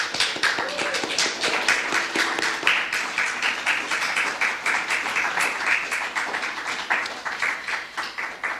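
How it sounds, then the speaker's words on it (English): A church congregation applauding steadily at a Sunday service, sustained clapping that stays even and lively from start to finish. "let us show our hands of thanks with a lovely round of applause again for Sister Caroline"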